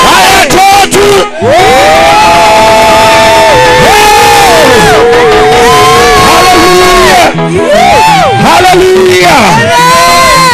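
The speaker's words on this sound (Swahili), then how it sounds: "nisikie shangwe na vigelegele twende" A church congregation erupts in loud cheering and high trilling ululation, a dense, sustained roar of many voices rising and falling, very close and overloaded, with shouted exclamations mixed in.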